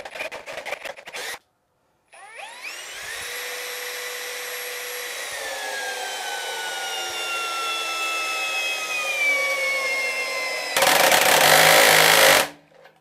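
An Einhell TP-CD 18/120 Li-i BL brushless cordless drill, clutch set to 21, drives a screw into wood. A short burst and a pause lead into a steady, rising motor whine, which ends in a louder, harsh grinding rattle as the clutch slips.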